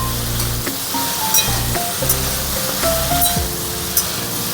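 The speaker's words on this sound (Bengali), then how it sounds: "এবার সবজিগুলো একটু ভাজা ভাজা হোক" Vegetables and soaked chickpeas fry in a pan with a steady hiss and sizzle, punctuated by occasional light clinks of a utensil.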